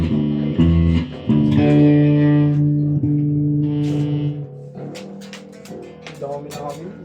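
Electric guitar played through its bridge pickup, a run of strummed and sustained chords with bright harmonics, changing every second or two before thinning into scattered picked notes and clicks.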